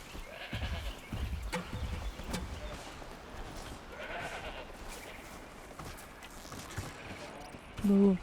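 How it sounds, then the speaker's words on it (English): A goat bleats a few times in Horizon Zero Dawn Remastered, its cries rising and falling at moderate volume under a voice talking and soft game sounds. "Move, goat."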